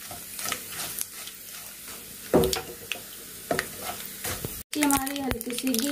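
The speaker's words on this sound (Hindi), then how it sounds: "लाल मिर्ची को हम तोड़ के डालेंगे इसमें और अच्छे से फ्राई करेंगे लाल मिर्ची को भी" Broken red chillies frying in hot oil, a steady close sizzle broken by scraping stirs and clinks of a spoon against the pan, with a brief gap near the end before a louder crackling burst.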